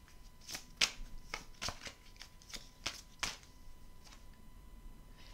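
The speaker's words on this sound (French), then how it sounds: "Et je vais prendre une petite carte, voilà, pour clôturer ce tirage." Tarot-style astrology cards shuffled and handled during a card reading, a run of crisp riffling flicks and soft slaps close up, with no talking.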